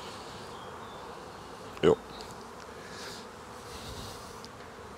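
Honeybees buzzing around an open hive during an inspection, a soft steady drone under outdoor noise, with one brief louder buzz as a bee passes close; a voice speaks a single word.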